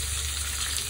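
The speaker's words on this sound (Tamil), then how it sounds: "பூண்டு அண்ட் பச்சை மிளகாய் போட்டு லைட்டா வதக்கணும்" Garlic and green chillies sautéing in a pan for fish curry, a loud, dense, continuous sizzle that is brief and even, with no speech.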